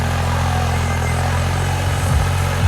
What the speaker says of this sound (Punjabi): ਆ ਸਾਹਮਣੇ ਚੱਲਦਾ ਟਰੈਕਟਰ